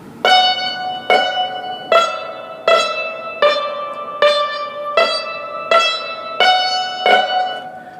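Eleven evenly spaced struck notes from a yangqin (Chinese hammered dulcimer), played without bouncing the sticks off the strings, each with a dull damped attack that lingers briefly rather than ringing cleanly.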